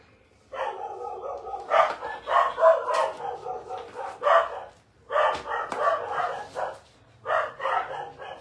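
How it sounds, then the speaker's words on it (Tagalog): Several dogs bark in repeated bursts at a moderate distance, with short pauses between volleys, in a quiet outdoor setting while chores go on. "Patagtatahulan yung mga aso dun."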